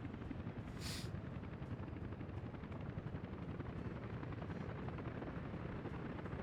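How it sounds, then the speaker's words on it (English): In the video game Workers & Resources: Soviet Republic, a construction helicopter hovers over a building site with a constant rhythmic rotor chop and a brief brighter burst early on, with no voices. "The helicopters are freaking sick for building stuff."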